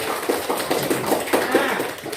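Students in a seventh-grade classroom clap together in a brisk, rattling burst of applause. A voice speaks over the clapping.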